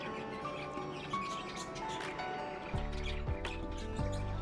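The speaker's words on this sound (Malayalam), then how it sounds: "നമ്മുടെ ലവ് ബേർഡ്സൊക്കെ ഒത്തിരി ശബ്ദം ഉണ്ടാക്കി അങ്ങോട്ടും ഇങ്ങോട്ടൊക്കെ പറക്കുമ്പോൾ" Lovebirds chirp and twitter in short, scattered calls as they flit back and forth in an outdoor spot on a road trip toward Munnar, moderately near, with a steadier, louder stretch of background sound toward the end.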